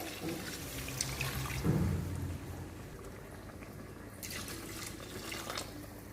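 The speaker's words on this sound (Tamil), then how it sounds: "இப்போ வந்து நம்ம தண்ணி ஆட் பண்ணிக்கலாம்." Water runs steadily from a tap or cup into biryani masala in a cooking pot, a continuous pouring wash with a brief heavier splash near the middle, close and moderately loud with no talking.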